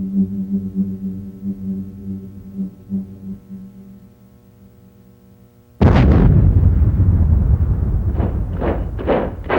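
A Ukrainian hydroelectric dam blown up in archival wartime footage: a sudden, loud, sustained explosive roar with rolling rumbles and bursts follows a stretch of droning orchestral music.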